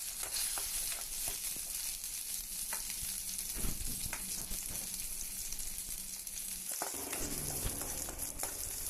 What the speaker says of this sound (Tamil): ஒரு சின்ன உருண்டை புளி அதை மட்டும் போட்டுட்டு அதையும் சேர்த்து நல்லா வதக்கிறோம்